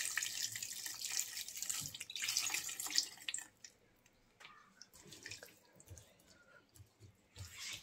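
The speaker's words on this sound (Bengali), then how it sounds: "তরকারির সমান সমান পানিটা দিলাম।" Water is poured into a hand-mixed curry of Malabar spinach seeds and small fish, a close, steady splashing pour for about three seconds that then stops, leaving faint kitchen noises and light clinks.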